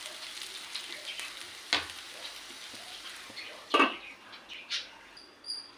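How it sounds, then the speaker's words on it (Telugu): Taro and egg curry frying in a pan, a faint steady sizzle with a few brief clinks of stirring breaking through. "చక్కగా ఫ్రై అవుతుందండి"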